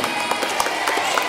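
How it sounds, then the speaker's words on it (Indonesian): Children at a camp gathering give a quick burst of scattered, lively clapping, fairly close and steady through the brief moment. "Tepuk tangan untuk Emen"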